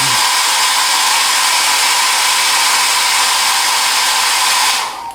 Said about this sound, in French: Je vais donner un coup de sèche-cheveux pour dire qu'il soit plaqué